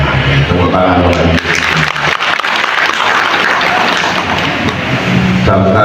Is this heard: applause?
yes